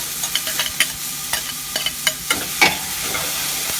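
Onions, celery and carrots sweating and stirred in a pan, with a steady soft sizzle broken by repeated scraping and clinking strokes of a utensil, fairly close and without speech.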